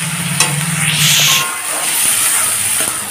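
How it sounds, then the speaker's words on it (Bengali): Ginger, garlic, onion, tomato and green chilli sauté in a pan over a high gas flame for egg tadka, producing a steady, loud, close hiss of frying with faint scraping of a spoon throughout. "এখন আদা, রসুন, পেঁয়াজ, টমেটো, কাঁচা লঙ্কাকে ভালো করে কষে নেব। আর গ্যাসটাকে এখন হাই ফ্লেমে করে দিয়েছি।"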